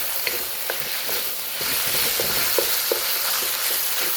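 Hot peppers sizzle steadily in oil in a wok for Szechuan beef, a loud close frying hiss with faint clicks of stirring throughout.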